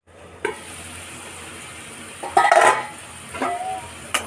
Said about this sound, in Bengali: এদিকে মাংসের আলু ভাজতে দিয়েছি